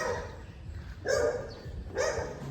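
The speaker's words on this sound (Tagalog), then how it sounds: "Yung mga aso." Two loud dog barks about a second apart, fairly close, over a low background rumble.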